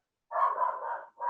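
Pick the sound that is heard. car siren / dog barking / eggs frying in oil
dog barking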